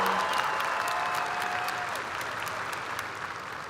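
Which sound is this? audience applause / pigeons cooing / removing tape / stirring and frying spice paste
audience applause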